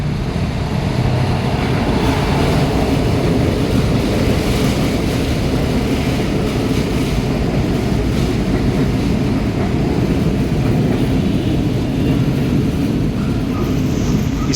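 An LRT light rail train gives a steady, loud rumbling roar that stays constant throughout with no talking.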